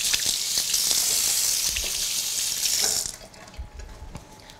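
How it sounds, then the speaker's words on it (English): Tap water runs steadily into a kitchen sink for washing up after mixing cookie dough, a loud continuous splash that stops abruptly near the end, followed by a few soft clinks. "now let's wash up"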